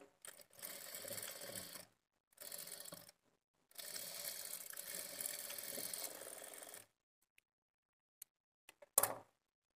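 Sewing machine stitching blouse fabric while making a hanging blouse design: three steady runs of close, loud mechanical whirring with brief pauses between them, then a few isolated clicks and a final short burst.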